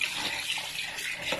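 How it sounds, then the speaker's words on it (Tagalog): Tap water runs steadily into a sink while raw chicken gizzards are rinsed under it, a continuous close hiss and splash with no talking. "Hugasan natin ng maraming beses."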